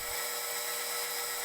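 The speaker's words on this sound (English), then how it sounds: "Now I'll drill a hole the right size." A center drill cuts into steel hex stock on a lathe, giving a steady, high, whining hiss that holds evenly and close throughout.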